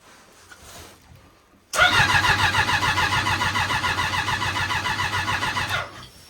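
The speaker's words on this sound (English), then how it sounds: "You're cranking to give it a pop to start the fire." A twincharged car engine cranks over steadily on snow in a fast, even rhythm, trying to start without catching, loud and close after a quiet opening, then cutting off near the end.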